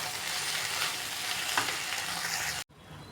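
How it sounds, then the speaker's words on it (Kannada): Okra (lady's finger) fries in a pan with a loud, continuous, close sizzle that cuts off abruptly near the end and then resumes more faintly. "ಈ ಥರ ಬೆಂಡೆಕಾಯಿ ಫುಲ್ ಫ್ರೈ ಆಗಿದೆ"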